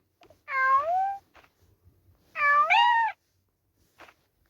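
Domestic cats meow twice, close and clear, each cry rising and falling, with short quiet gaps and a faint soft sound near the end; nobody speaks.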